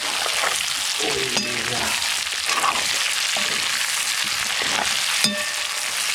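Onion sizzles in a pan with black pork, a steady loud crackling fry with a few sharper spatters and occasional utensil knocks, no talk over it.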